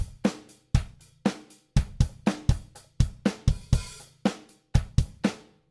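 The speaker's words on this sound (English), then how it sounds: "so there's my finger drumming for you" Finger drumming on pads triggering a Superior Drummer virtual drum kit, a quick groove of punchy kick and snare hits with cymbal washes, close and fairly quiet, no talking.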